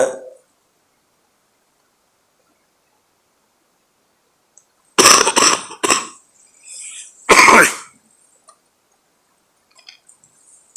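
Two sharp coughs a couple of seconds apart, the first a quick double burst, loud and close, breaking an otherwise silent stretch.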